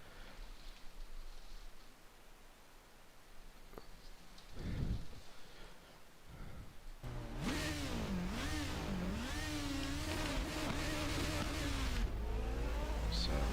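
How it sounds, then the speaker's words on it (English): A Formula Supreme racing engine in the Assetto Corsa sim racing game revs and climbs through the gears, a loud, steady roar with wavering pitch after a few quieter knocks. "let's just hear what this engine sounds like"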